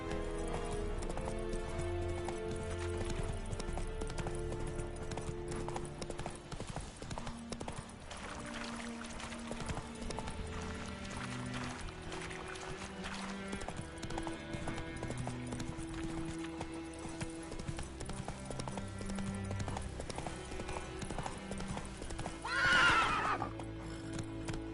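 Roach the horse galloping in a video game, a long run of steady rhythmic hoofbeats beneath game music, with a sharp whinny rising near the end.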